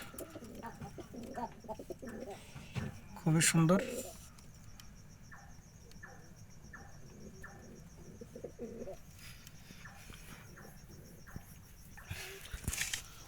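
Pigeons coo softly in a loft, low throaty calls recurring under a person speaking, with a brief louder burst of fluttering near the start.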